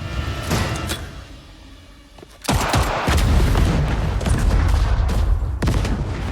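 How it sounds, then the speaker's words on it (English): A grenade explosion in a film: a sudden loud boom bursts in after a quieter stretch, followed by a sustained roaring, crackling blast that fills the scene. "A massive explosion follows, killing Marcus instantly."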